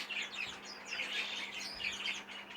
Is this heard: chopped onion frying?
no